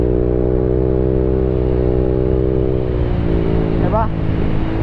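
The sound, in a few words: vehicle with T4S exhaust pipe revving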